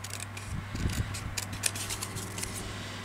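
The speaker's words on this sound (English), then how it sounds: "I hope I can do this good with the scissors." Scissors snipping and trimming paper around a nature journal page, a series of close, quiet crisp cuts and rustles over a steady low hum.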